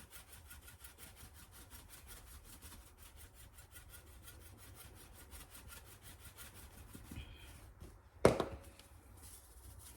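A pepper grinder turns over homemade macaroni and cheese in a home kitchen, a faint, steady scratchy rasping that repeats rhythmically, ending with a sharp clack near the end.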